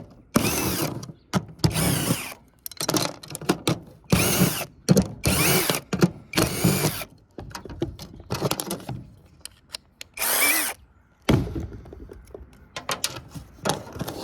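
Power drill whirring in repeated short bursts, starting and stopping about ten times with quiet gaps between, close and fairly loud.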